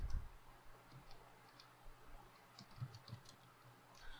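Typing Python code on a computer keyboard, light scattered key clicks and ticks in short irregular bursts, soft and close with quiet gaps between.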